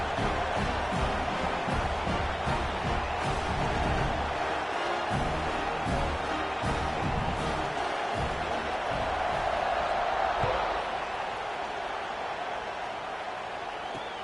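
A large football stadium crowd at a Michigan versus UCLA game keeps up a steady, dense roar after a score, broad and continuous throughout with no single voice standing out.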